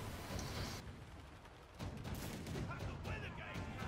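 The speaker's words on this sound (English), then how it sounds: "I think there is some other ships being shot at on here." Ship cannons boom and crackle in rapid, overlapping volleys during a naval battle in the Man O' War: Corsair pirate video game, loud and close, with a short lull before the firing picks up again.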